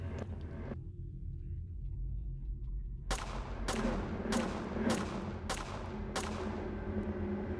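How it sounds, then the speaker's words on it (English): Gunshots in the video game PAGAN Autogeny ring out as six sharp, loud cracks at a steady pace over a low rumbling background, each with a short decaying tail and no talking. "Pop off a couple of rounds."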